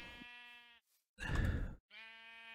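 Two long, wavering sheep bleats from Minecraft, close and clear, with a short breathy noise burst between them.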